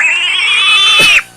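A loud, close pig oink sound effect played from a soundboard: one sustained, nasal squeal-like grunt lasting about a second, then a brief drop before another burst begins, with no talking over it.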